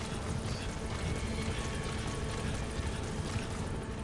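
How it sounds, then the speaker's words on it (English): A helicopter hovers overhead in Metal Gear Solid V: The Phantom Pain, a loud, steady, dense rotor roar filling the whole clip without a break. "It's really loud while that helicopter's here."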